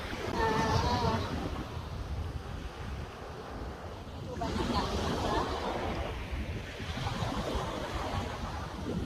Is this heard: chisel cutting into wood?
no